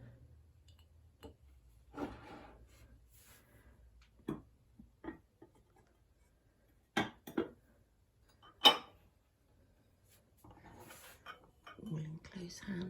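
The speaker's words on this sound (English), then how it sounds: "And some pots and pans." Pots and pans clink and knock as they are handled and set on shelving in a tiny Cornish kitchen, a few sharp scattered clatters over a quiet room with soft whispered talk.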